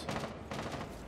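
Gunfire in the tactical shooter Rainbow Six Siege, two rapid bursts of shots close by, dense and loud, filling the second with little gap between them.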